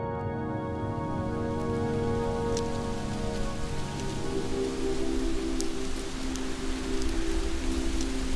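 Steady rain falls through a bamboo forest, a dense, continuous patter of drops on leaves with occasional sharper drips standing out, even and close with no voices.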